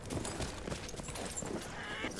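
Horse hooves clip-clopping in the video game Battlefield 1, a quick uneven run of close hoof thuds under busy game noise.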